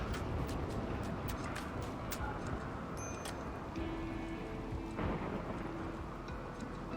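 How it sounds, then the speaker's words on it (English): A thunderstorm with rain from the RimWorld video game: a dense, steady hiss of rainfall fills the scene, with low rumbles and scattered sharper cracks of thunder, heard without speech. "the storm increases wind generation for the duration of the storm"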